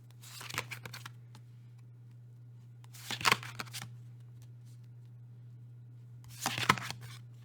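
Tarot cards being shuffled in three separate bursts of riffling and flicking, close and crisp, with quiet pauses between them over a steady low hum.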